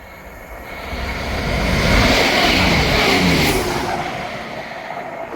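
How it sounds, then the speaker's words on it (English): A Scotrail passenger service from Edinburgh Waverley to Aberdeen passes through Monifieth station, a broad rumbling roar that swells to a peak near the middle and then fades as the train runs by. "Passing through now is the 1451 Scotrail service from Edinburgh Waverley to"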